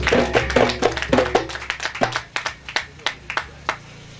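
Scattered hand claps from a small gathering at a funeral service, a brief burst of applause over a low hum that thins into a few separate slaps and fades.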